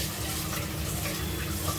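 Tap water runs steadily while a sugar container and spoon are rinsed, a constant close rushing flow with faint clatter beneath, no talking.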